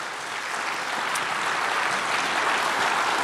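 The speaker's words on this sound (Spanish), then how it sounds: "Denle el aplauso al Señor." A church congregation gives a sustained round of applause during a worship service, a dense and even wash of clapping from many people that swells slightly as it goes on.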